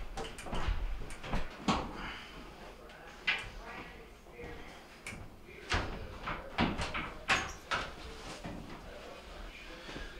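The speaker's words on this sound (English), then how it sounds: "Get your top panel up." The top panel of a Maytag MGDB200VQ gas dryer being lifted off during repair: a run of metallic clunks, knocks and rattles, irregular and close, with quieter handling noise between them.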